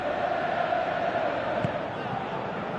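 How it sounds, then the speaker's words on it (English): Stadium crowd in a PS4 soccer video game, a steady broad roar of fans filling the whole stretch, with commentator speech running over it. "you can feel and hear how the crowd are reacting to all of this"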